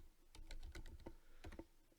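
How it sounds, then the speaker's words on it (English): Keys clatter on a computer keyboard in a short, uneven burst of close, soft taps, quiet and without speech. "as I'm typing"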